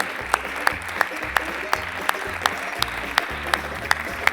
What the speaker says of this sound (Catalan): Un aplaudiment per a tots ells